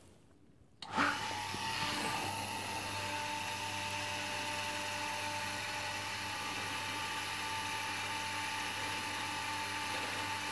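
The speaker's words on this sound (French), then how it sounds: "On allume la pompe." A cider transfer pump switches on after a second of near quiet and then runs steadily, a constant close mechanical whir with a low hum and faint ratcheting texture continuing alone without pause.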